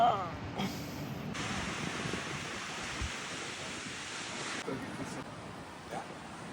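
Sea waves on the Vietnam coast, heard as a steady, washing roar of surf mixed with gusty wind buffeting the microphone, continuous throughout.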